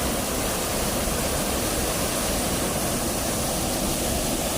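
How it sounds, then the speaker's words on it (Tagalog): Strong, steady rush of water pouring down a waterfall at natural pools, a loud continuous roar with no pauses or voices. "Napakalakas ng tubig mga kababayan."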